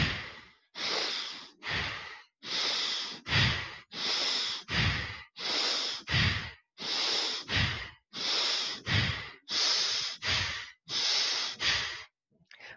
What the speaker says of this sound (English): This is a kind of breath of fire.